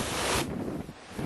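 Strong wind buffeting a microphone aboard a sailboat at sea off Morocco, a loud roaring rush that drops abruptly partway through to a lower gusty background.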